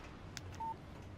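A single short electronic tone from a phone text message alert in the Alan Wake video game, brief and fairly quiet over a faint background hum.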